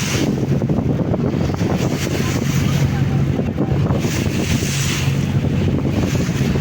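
Boat moving on a river near Mongla port with strong wind buffeting the microphone, a loud, continuous rushing roar with a low engine-like rumble beneath and no clear speech.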